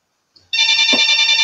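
A mobile telephone rings with a loud, bright electronic ringtone that starts abruptly after a short quiet moment and continues steadily, with a faint bump partway through.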